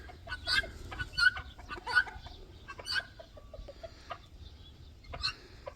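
Guinea fowl and chickens call around a farmyard tree, with clucks and sharp chattering cries repeating irregularly at moderate distance over a low background rumble.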